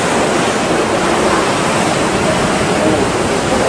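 Powerful ocean waves break and roar at a harbour entrance as boats ride them in, making a loud, unbroken wash of broadband rushing noise.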